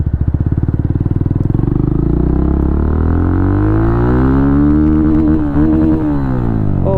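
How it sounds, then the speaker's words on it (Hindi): A Yamaha FZ25 motorcycle with an Akrapovič aftermarket exhaust runs loud and close with a deep, throaty exhaust note, rising and falling in pitch as the rider accelerates and shifts. "चलिए अब इस बाइक को मैं राइड करता हूँ।"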